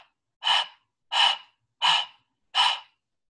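A human voice imitates a hound dog's hurried breathing with four evenly spaced, breathy huffs, close and clear, with short silences between them.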